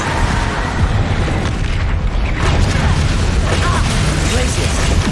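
Bombarda blast spells from the Hogwarts Legacy video game boom continuously, a dense, loud rumble of explosions and crackling magical bursts running the whole stretch with no pause.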